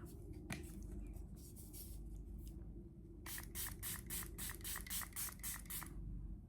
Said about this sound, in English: I'm gonna go ahead and spray my face with my one size, this thing is dirty, my one size powder melt